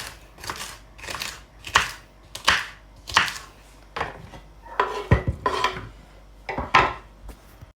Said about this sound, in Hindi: मैंने सारी की सारी भिंडियाँ काट ली है